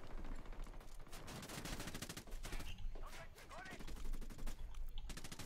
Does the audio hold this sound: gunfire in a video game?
yes